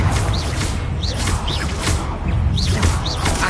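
Confringo fire spell cast repeatedly in Hogwarts Legacy, a series of whooshing bursts with bright swishes over a constant low rumble of game ambience, about five casts in quick succession.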